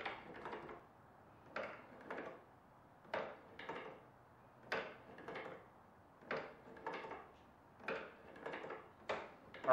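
A wooden escapement-driven cradle mechanism with pendulum, drive wheel, counterweight wheel and lock runs on its own, giving faint, regular wooden clacks in steady paired beats.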